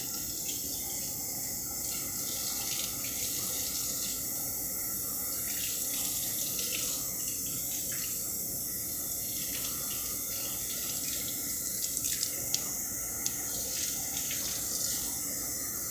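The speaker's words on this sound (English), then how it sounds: "Washing these is a good idea." Tap water running steadily into a kitchen sink while mushrooms are rinsed under it, a continuous close hiss with faint splashes and small handling clicks near the end.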